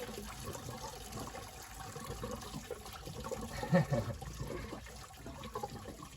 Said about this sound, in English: So when I take that bottom hose off, that's where the mess is going to be. Oh, there we go. There's the gush.